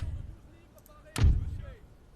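A single deep boom of cannon artillery fire from the Napoleon Total War strategy game thumps out mid-clip over a quiet background, fading with a short rumble.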